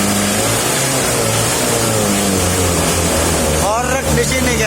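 An old Mitsubishi L300 diesel engine revving loudly and steadily up close, its low rumble continuous throughout, with people talking over it.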